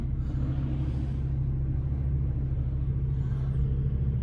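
A truck engine idles after new injectors were fitted, a steady low rumbling drone that stays even and close with no talking over it.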